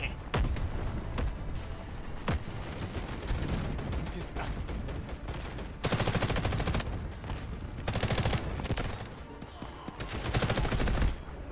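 A mounted turret machine gun firing in the shooter game Delta Force, dense rapid bursts with explosions and other gunfire layered in, loud and near, with some voices underneath.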